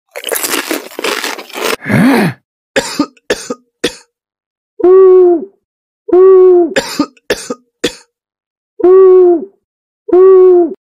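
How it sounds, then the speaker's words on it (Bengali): Several harsh coughing bursts, then a series of long, drawn-out cartoonish groans repeating at steady intervals, loud and close with silence between them. "এভাবে কাশি দিচ্ছে আর গঙ্গাচ্ছে কে?"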